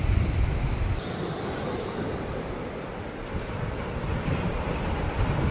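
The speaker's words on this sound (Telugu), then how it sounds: "చూడండి అల్ల ఎలా వస్తున్నాయో" Sea waves roll onto a beach where fishing boats are pulled up, a constant broad wash heavily buffeted by wind on the microphone, with no one talking.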